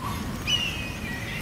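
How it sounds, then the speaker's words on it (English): A few small birds near blooming lilies give a short, clear chirp or whistle over faint outdoor background, fairly close but not loud. "They have few birds over here"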